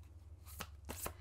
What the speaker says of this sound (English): I'm actually going to, like, shuffle and get, like, one more